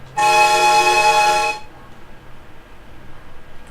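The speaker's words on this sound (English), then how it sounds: "The train, of course, has a horn." Train horn in a train driving video game: one loud, steady, sustained blast lasting over a second, then it cuts off to quiet.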